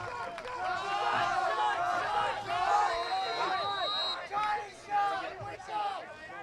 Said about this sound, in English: Smithtown East crowd in front of us imploring their troops to get this ball back and get this game tied up.